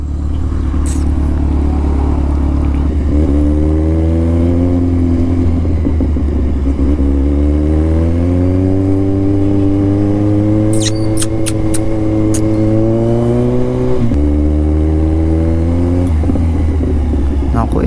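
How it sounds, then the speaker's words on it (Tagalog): Road traffic of cars and motorcycles rumbles loudly nearby, with engines revving up and down in rising sweeps and some clattering, continuous throughout. "Ito na naman tayo, traffic na naman."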